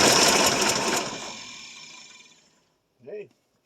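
A 1973 Ford F100 with a 390 FE V8 coughs to life after sitting for decades, running rough and loud before sputtering down to silence, followed by a brief voice.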